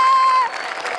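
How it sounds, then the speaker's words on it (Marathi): Audience applause with some crowd noise at a Marathi comedy stage show in Maharashtra, a short, loud burst that eases slightly midway and continues steadily to the end. "जोरदार टाळ्या"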